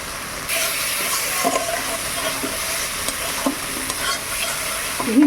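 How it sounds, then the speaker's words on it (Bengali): Crab brain sizzles as it is stir-fried with spices in hot oil for a spicy crab curry, steady close frying with scraping stirs and a few sharper clinks, no talking. "এই ঘিলুটা এবার দিয়ে দেব। মশলার সঙ্গে একটু কষিয়ে নেব।"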